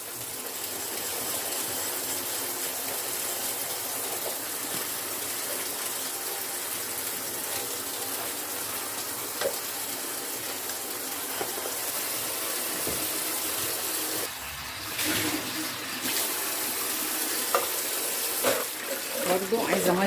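Hot water runs steadily from a kitchen tap while greasy dishes are rinsed, a continuous splashing hiss with brief changes as items pass under the stream, and someone talks over it.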